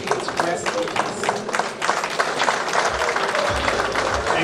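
An audience at a tribute and eulogy gives a dense, sustained round of clapping that stays loud and steady throughout, with voices mixed in.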